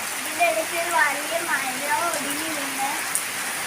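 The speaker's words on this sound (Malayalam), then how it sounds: "നല്ല തണുത്ത കാറ്റും പെരുമഴയും കാറ്റും തേമാരിയും എല്ലാം ഉണ്ട്" Heavy rain pours steadily and close by, a dense even hiss with a cold wind, while a voice talks faintly through it.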